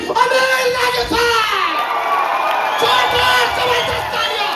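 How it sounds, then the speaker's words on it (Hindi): Loud, lively crowd at a training event stage in Jaipur cheering and whooping with shouting voices, including children, as a leader is welcomed, the cheering sustained throughout. "जोरदार जबरदस्त तालियां, जोरदार जबरदस्त, जोरदार जबरदस्त तालियां"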